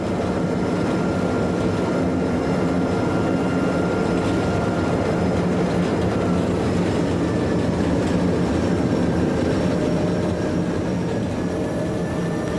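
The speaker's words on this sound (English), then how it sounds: "a 1200 class diesel with a late-running local Algarve service to cross" A Portuguese Railways 1200 class diesel locomotive on a late-running local Algarve service, heard as a steady, loud, continuous engine and rail rumble with faint tonal whines, sustained throughout without speech.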